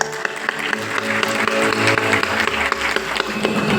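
Steady applause from a crowd at a play school's annual function, continuous clapping with no breaks, with music or a low hum running underneath.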